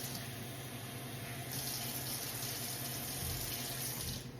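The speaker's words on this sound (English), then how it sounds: "probably about 3 tablespoons of water is all you need" Water pours steadily from a tap or spout into a cooking pot for smothered green beans, a continuous close rushing stream that grows brighter partway through, then cuts off near the end.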